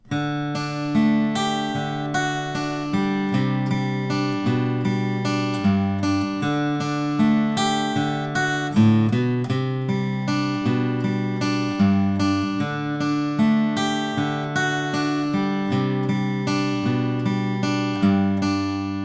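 Electric guitar plays the verse break of a song, a steady run of plucked notes and ringing chords in a continuous, even rhythm with no voice.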